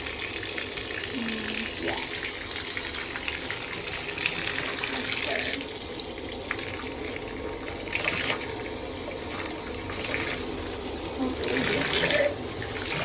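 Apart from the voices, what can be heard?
cold tap water running while rinsing hair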